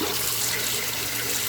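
Tap water runs steadily into a sink while jasmine rice is rinsed, a continuous close splashing rush with no pauses or voices.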